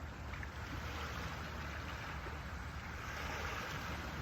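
Ocean waves wash in a steady, unbroken hiss of surf, soft and fairly distant, with no voices.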